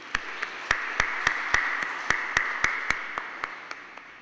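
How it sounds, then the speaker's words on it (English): Congregation at a Catholic novena Mass applauds the Sunday choir, a sparse set of distinct hand claps in a slow, fairly even rhythm heard in a reverberant church. "We give them all a round of applause."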